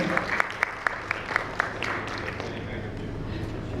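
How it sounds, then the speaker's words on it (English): Audience applause at a banking summit panel rises as a crowd claps, with a few sharp, regularly spaced claps standing out at first before merging into a softer, steady patter. "Can we have a huge round of applause for him?"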